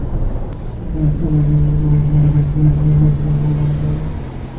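A Mitsubishi Pajero TR4 with a worn wheel bearing turns left, a steady low droning hum rising and holding under the engine and road noise, heard from inside the cabin.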